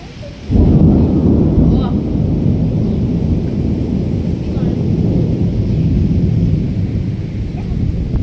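Loud thunder bursts in after a quiet half-second and rolls on as a heavy, sustained rumble over steady downpour and gusty wind during a thunderstorm in a village, with no speech.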